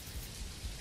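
Rain falls in the video game Dinkum as a faint, steady wash of soft noise with no distinct drops or pauses across a short stretch.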